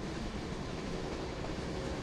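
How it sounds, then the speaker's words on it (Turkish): A stopped train starts moving and rumbles steadily along at moderate distance, a continuous low rolling noise with faint rail clatter and no voices. "Tren durmuştu, hareket etti."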